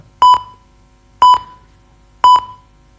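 Electronic timer beeps at a badminton league player auction, three short identical double-pulse bleeps spaced about a second apart, loud and clear with no talk over them.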